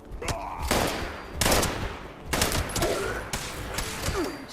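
Bursts of rapid combat rifle fire from a video game crack out in four or five loud, close volleys separated by brief pauses.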